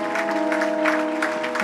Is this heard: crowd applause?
yes